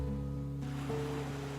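Gentle ocean surf on a tropical beach, a soft steady wash of waves that swells slightly partway through, heard at a distance with low tonal hum beneath.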